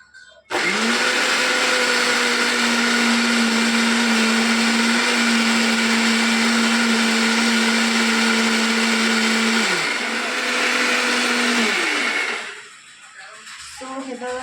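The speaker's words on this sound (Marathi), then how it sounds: "त्यानंतर परत एकदा झाकण लावून ग्राइंड करून घ्यायचं आहे, जेणेकरून मसाला चांगला होईल" Mixer grinder blending masala paste with a little water, a loud steady motor whine that starts abruptly, runs about eleven seconds with a slight dip, then winds down and stops.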